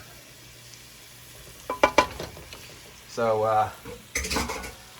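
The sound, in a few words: stirring plant-based bolognese sizzling in a pan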